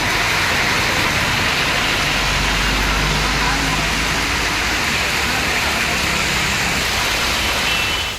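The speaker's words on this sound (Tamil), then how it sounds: "இடி மின்னலுடன் மழை பெய்ததால் குளிர்ச்சி நிலவியது" Steady rain pours during a thunder and lightning storm over Dharmapuri town and nearby areas of Tamil Nadu, a loud, continuous hiss of falling water with no distinct thunderclap standing out.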